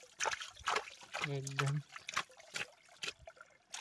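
Fresh natural water trickles in a jungle in uneven bursts and splashes, heard quietly under someone talking.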